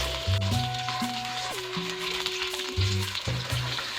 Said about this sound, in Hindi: अदरक लहसुन पेस्ट को 2 मिनट पकाएंगे हम।